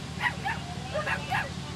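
A pack of 126 rescued street and shelter dogs from Puerto Rico yips and barks in short, repeated bursts as buses pull up at Palm Beach International Airport, moderately distant over a low steady rumble.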